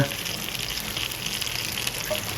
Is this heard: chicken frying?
yes